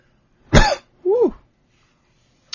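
Two rough coughs after smoking, close to the mic, one sharp and one throatier, followed by silence and a brief faint noise at the end.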